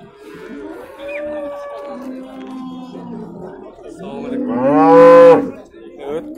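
Dairy cows and a bull calf at a livestock sale give several long, deep moos. One loud, close, drawn-out bellow dominates near the end, over a murmur of people talking nearby.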